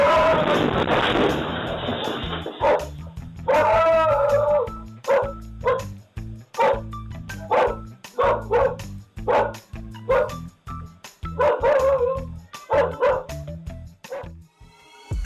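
A frightened dog caught on a surveillance camera barks and yips in sharp, repeated bursts with whimpering gaps, loud and close, after an opening stretch of noisy commotion.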